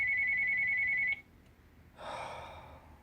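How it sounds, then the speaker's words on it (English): An electronic telephone ring trills steadily for about a second and then cuts off abruptly, followed by a brief breathy gasp-like sound, with no talking. "The phone."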